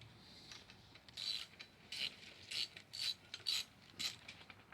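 A ratchet drives 5mm hex Allen head bolts while a chin spoiler air dam is installed, in short bursts of metallic clicking, six or so quick runs spaced about half a second apart, close and fairly crisp.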